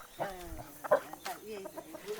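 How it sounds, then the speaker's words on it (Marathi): Several chickens cluck nearby in short, uneven bursts, with a person speaking briefly in the background. "हे बघा कोंबड्या"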